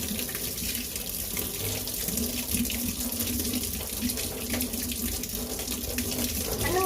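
Tap water runs steadily from a faucet into a sink during hand washing at a daycare, a continuous close splashing stream with no talk over it.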